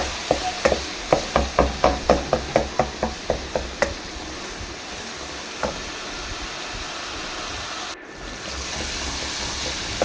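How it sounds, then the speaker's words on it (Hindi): Turmeric and salt roast in ghee in a pan for an aloo, matar and gajar mixed-vegetable dish. A quick run of rhythmic spoon knocks and scrapes against the pan is followed by a steady, close frying hiss, with no talk. "और अच्छी तरह से मैं मसाले को भून लूँगी।"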